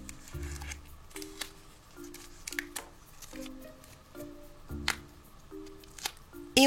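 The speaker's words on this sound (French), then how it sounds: "on enlève le papier au dos" Paper backing is peeled off a foil art sticker in a Moana craft activity, giving small crackling, tearing rasps and clicks close to the microphone, spread in short separate bursts over a faint steady tone.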